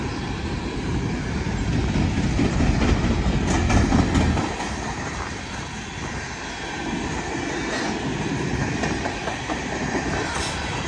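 A BNSF freight train passes close by, a northbound mixed manifest led by locomotive 8476 with two distributed power units, giving a loud, steady rumble and roar with rhythmic clickety-clack of wagons on the rails and no talk.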